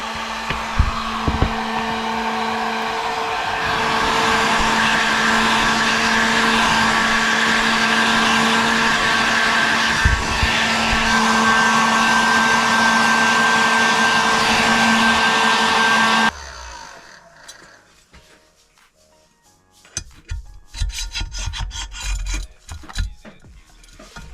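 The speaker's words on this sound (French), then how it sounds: "Chauffer un peu les carters." A hot-air blower roars steadily for about sixteen seconds, close and loud, as it heats the crankcases during engine prep on a Daytona Anima, then cuts off, leaving quieter scraping and handling sounds.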